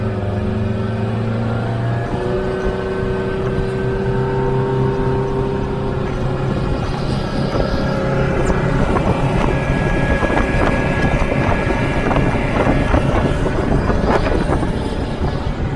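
A 2014 Campion Biltmore motorboat engine revs up on Chestermere Lake, its steady loud drone rising in pitch as the throttle opens, mixed with rushing water and wind buffeting the microphone.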